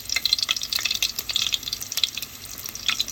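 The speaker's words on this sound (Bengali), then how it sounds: "পেঁয়াজটাকে লাল করছে" Onions frying in hot oil in a pot for pulao-style biryani, a steady crackling hiss with dense bright spattering pops throughout, close and fairly loud, with no voices.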